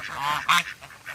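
A goose, part of a small flock with one white bird, gives a short nasal honk outdoors, fairly faint and brief, with a little background noise.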